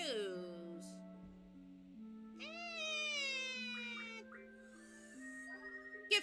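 A cat meows in a Final Fantasy VIII Remaster game scene, its drawn-out cries rising and falling under soft game music, fairly quiet with a few shorter calls.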